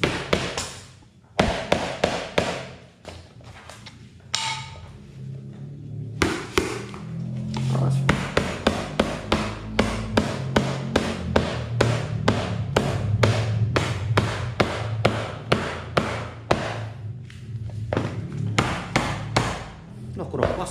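A hammer with a loose, broken head strikes repeatedly in quick uneven bursts of sharp close knocks and thuds, with short pauses between runs, while someone talks intermittently.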